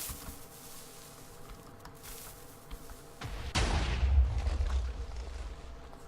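Warship cannon firing in a block-building video game, a sudden loud boom with a deep rumbling low end that swells and lingers for a few seconds after a quieter stretch of ambient noise.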